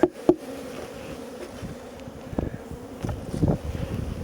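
Honeybees buzz steadily around an open beehive on a sunny day, a continuous close drone with a few sharper knocks and bumps from handling the hive.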